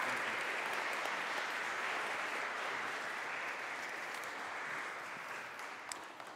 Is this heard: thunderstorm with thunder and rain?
no